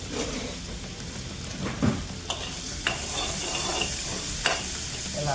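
Ginger garlic paste fries in melted butter in a pan for butter chicken, a steady gentle sizzle with a few scraping stirs and clicks of a utensil, heard alone without talk.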